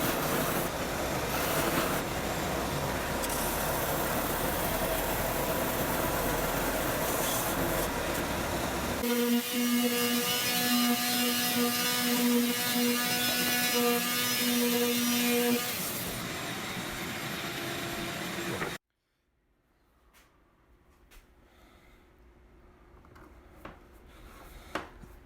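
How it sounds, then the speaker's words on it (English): A glued wooden paddleball paddle is sanded with a loud, steady power-tool roar that changes pitch partway through, then cuts off abruptly, leaving quiet room noise. "I'm going to"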